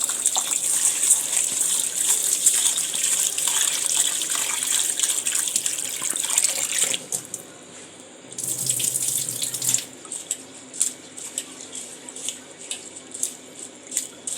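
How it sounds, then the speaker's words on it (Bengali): Rice being washed under a running kitchen tap, a steady loud gush of water into a vessel that briefly drops away, then returns with splashing and sloshing as the grains are swirled. "প্রথমে চালটা আমি ভালো করে ধুয়ে নেব"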